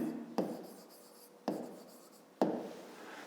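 Three short, sharp pen taps land on paper or a board during a fifth-grade math lesson, each followed by a faint scratch of handwriting. It is quiet and close, with no talking.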